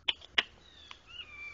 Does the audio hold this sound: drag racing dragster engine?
no